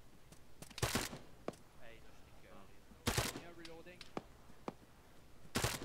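Bursts of automatic gunfire in a military team exercise, three loud separate volleys spread across the clip, with radio-style talk between them.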